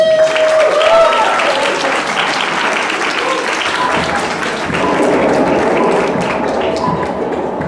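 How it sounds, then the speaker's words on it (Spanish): A live audience at a communication colloquium breaks into applause, dense sustained clapping filling the room from start to finish, loud and close, with a brief voice or tone near the beginning. "Un aplauso, por favor."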